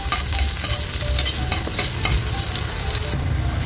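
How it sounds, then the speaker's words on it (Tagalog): Garlic hits hot cooking oil in a pan for pork belly sinigang, a loud close sizzle crackling throughout with stirring scrapes and pops, no voices. "Mainit na guys yung ating mantika, kaya ilalagay na natin yung ating bawang."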